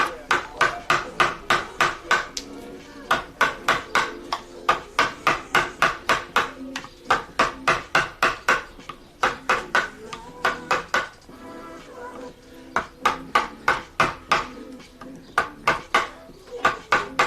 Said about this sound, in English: My chisel needs a sharpen already.